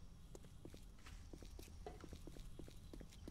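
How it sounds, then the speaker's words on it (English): Footsteps in the video game 7 Days to Die, a quiet, regular series of soft thuds spaced about every quarter second, heard at low level against a faint background hum. "I hear footsteps again."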